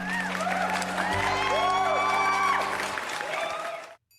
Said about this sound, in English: Thank you for clapping, Laura